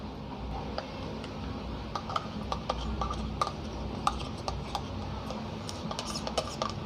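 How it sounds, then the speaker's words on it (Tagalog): Yogurt stirred into egg white in a bowl for a hair mask, a steady run of light ticking spoon clicks against the container, close and fairly quiet with no speech. "ihalo lang natin sa egg white"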